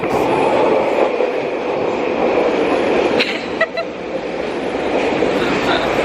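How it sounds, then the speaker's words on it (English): A driverless SkyTrain metro train in the Vancouver area hums steadily along the rails, loud and close, with a brief metallic clatter and faint chiming partway through. "Got the sky train."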